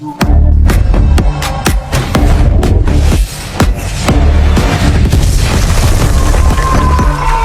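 A rocket explosion in a scene from the movie Kraven the Hunter: loud, booming blasts and sharp bangs repeat densely and close over a rumbling roar throughout.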